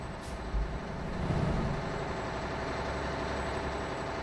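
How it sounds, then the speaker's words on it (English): A Mack R semi truck rolling down the road, its engine a steady, loud low rumble with constant road noise throughout, no talking over it. "let's take a look at our truck rolling down the road"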